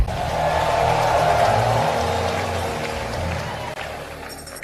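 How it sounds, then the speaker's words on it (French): A church congregation at a revival conference applauds and cheers, a broad wash of clapping and voices that swells early, then gradually fades away. "applaudissez et acclamez le Seigneur une fois de plus"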